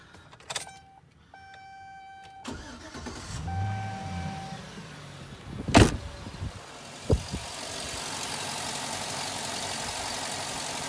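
A 2006 Chevrolet Silverado pickup truck engine cranks and starts with a sharp burst, then settles into a steady idle hum, after a few clicks and a whirring motor.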